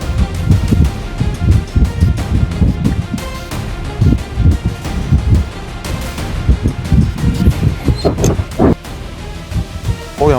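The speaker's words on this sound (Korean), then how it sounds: "바람 터졌습니다" Strong wind blows across a fishing boat far out at sea before dawn, a loud, continuous gusty roar buffeting the microphone, with rustling and occasional knocks and splashes mixed in.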